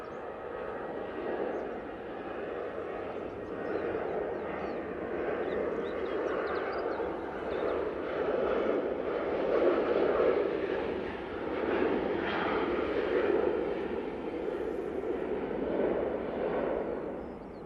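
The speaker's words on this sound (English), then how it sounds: "I got the KLM going out in the taxi. Going back to Amsterdam." KLM airliner taxiing out at Manchester Airport, a steady broad jet engine rumble and whine held at moderate distance, swelling slightly midway, with no voices.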